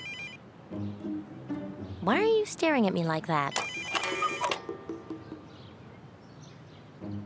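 A cartoon telephone rings in bright electronic bursts inside a house, sounding mid-clip between spoken lines and over other cartoon sound effects.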